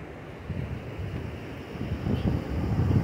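Flood-swollen water rushes at full spate under a bridge after heavy rain, a steady low roar with gusts of wind buffeting the microphone and no voices.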